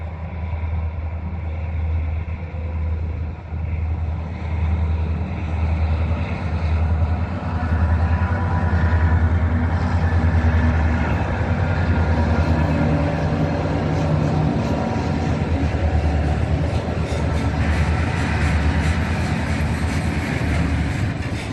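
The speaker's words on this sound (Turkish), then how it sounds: "Şimdi tren geliyor." A train rumbles past at close range, a steady heavy roar with rattling wheels and metallic clatter sustained throughout, no voices.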